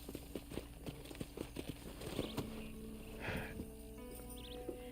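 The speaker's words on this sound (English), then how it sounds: "Alright, I'm gonna grab my horse." A horse walks in Red Dead Redemption, its hooves giving a steady run of soft clip-clop thuds amid quiet game ambience, with faint chirps and a low rumble in the background.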